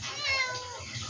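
Pet cat giving one clear, close meow with a wavering, drawn-out tone, faint and alone.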